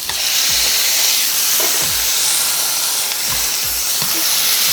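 A steak sizzles in a hot pan just after being flipped for searing, a loud, steady hiss with faint low knocks underneath and no talking.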